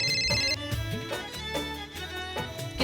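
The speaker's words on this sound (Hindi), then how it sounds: "किसका फोन है?" A phone ringtone plays as a loud melodic electronic tune with repeated rhythmic phrases, continuous over a few seconds with no talk.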